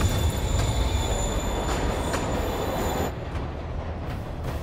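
A train in the video game Spider-Man PS4 rumbles along loudly and steadily, with a dense rolling roar and thin high wheel squeals over it that ease slightly toward the end.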